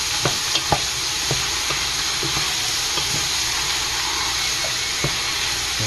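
Ingredients for lagman soup sizzling loudly in a pan, a continuous frying hiss broken by scattered clicks and scrapes of stirring.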